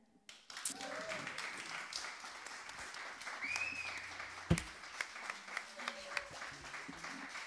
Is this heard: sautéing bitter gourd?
no